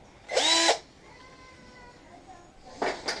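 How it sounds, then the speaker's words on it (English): A power drill set on low whirs in a short close burst, then quiet, then starts again briefly at the end. "Set the power of your drill down to about 4."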